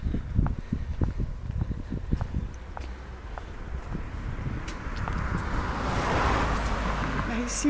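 A car drives past on a quiet country lane, its tyre and engine noise swelling as it approaches and peaks near the end, with footsteps and rustling outdoors beforehand.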